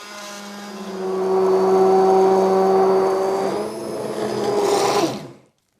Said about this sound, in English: I've blended this for a couple of minutes now